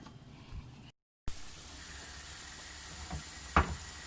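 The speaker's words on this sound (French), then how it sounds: "vous rajoutez toute la c'est-à-dire la viande blanche et vous allez laisser cuire et vous mélangez avec une cuillère en bois" White chicken meat frying in oil in a pan gives off a soft, faint sizzle, cut by a brief silence, then a couple of scraping stirs of a wooden spoon and one sharper clack near the end.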